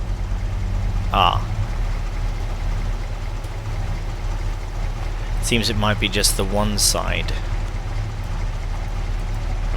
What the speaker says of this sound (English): He'll just fire up the engine as well in case we need to